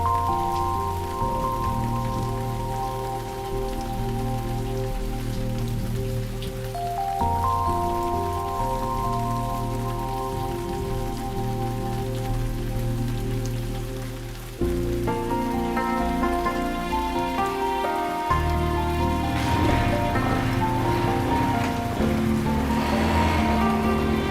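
Heavy rain pours steadily for a long stretch, mixed with a droning background of layered music tones that shift partway through.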